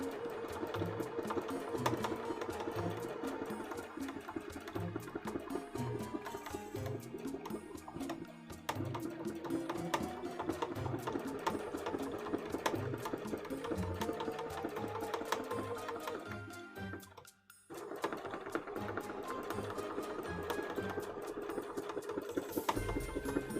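A sewing machine stitches an embroidery panel for a cosplay costume with a continuous close rhythmic whir, a brief halt partway through, then stitching again.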